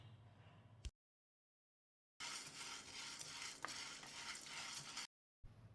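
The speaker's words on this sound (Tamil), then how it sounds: "பேனில் 1 கப் அளவு காராமணி, அதாவது தட்டைப்பயிரை போட்டு ஒரு 5 நிமிஷம் வாசனை வர்ற அளவுக்கு வறுத்துக்கலாம்." Black-eyed peas dry-roasting in a pan over moderate heat give a soft, gritty scraping and rattling as they are stirred, steady and close, interrupted by two silent gaps.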